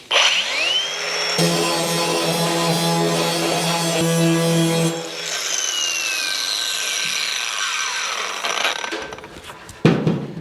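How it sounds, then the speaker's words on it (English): An angle grinder fitted with a shrinking disc works over a car body panel on a 1953 GMC cab, giving a loud sustained whine that dips in pitch as it loads up, then a rougher, changing rub for the rest. "And then I have a shrinking disc on a angle grinder."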